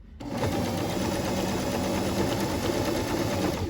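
A sewing machine stitches scrunchie fabric, a steady, continuous close-up whir that runs loud and unbroken from start to finish with no talking.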